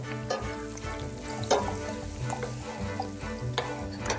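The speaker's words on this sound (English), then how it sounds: "6 tablespoons of olive oil. Just heat it and wait for it to sizzle a little." Olive oil sizzling and frying in a pan, with steady crackling and occasional spatters, close and fairly loud, with no talking.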